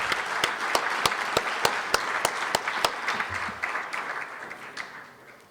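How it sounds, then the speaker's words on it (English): Audience applause at lunchtime presentations during a green grand prix event, a steady patter of many hands clapping with sharp individual claps on top, fading out toward the end. "Let's give them a round of applause"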